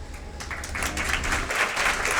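Audience applause at an award ceremony in Paris for the 2023 ACPM stars, a steady mid-level clatter of many hands clapping that swells slightly toward the end, with no voices over it.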